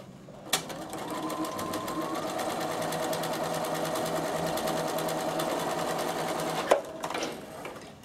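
A Bernina sewing machine runs steadily for about six seconds while stitching a row of cross hatching, a fast even mechanical whir with clicks at the start and stop and no talking.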